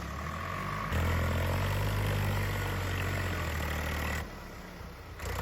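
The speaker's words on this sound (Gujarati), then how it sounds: "સ્વરાજ મોટું ટ્રેક્ટર" A large Swaraj tractor engine rumbles on a farm track with potholes, a loud, steady low drone that surges slightly, then drops in level near the end while continuing to idle.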